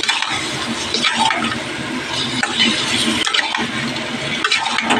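Water is poured into a pot of greens curry, a loud, close gush and splash that runs without a break for about five seconds.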